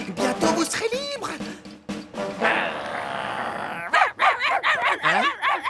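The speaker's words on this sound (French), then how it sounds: "c'est sur moi que vous aboyez là" Cartoon dogs bark and yip in a rapid, excited burst of repeated barks, with a whimpering, rising whine in the middle and voices talking around them.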